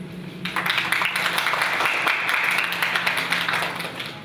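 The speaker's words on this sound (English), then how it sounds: "Once again, clap for her teacher." A class applauds for their teacher during a teacher-training session, a burst of dense, steady clapping that starts sharply and continues for several seconds before easing off, with no speech over it.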